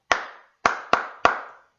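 Four sharp, close hand claps in an uneven rhythm, a gap after the first and then three quicker ones, each ringing out briefly in a quiet room with no other sound.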